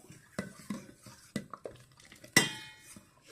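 Aval (flattened rice) payasam in milk is stirred in a pot, giving a few distinct scrapes and clinks of a spoon against the pot, spaced irregularly with one sharper clink near the end, fairly close and not loud, with no talk.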